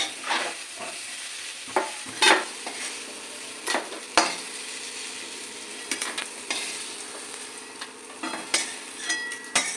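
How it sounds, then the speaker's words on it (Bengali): Fried bitter gourd sizzling in a pan while being stirred and lifted out, with repeated sharp spatula scrapes and clicks over a steady close frying hiss. "আমার উচ্ছেটা ভাজা হয়ে গেছে, এবার আমি আস্তে আস্তে উচ্ছেগুলো সমস্ত তুলে নেবো"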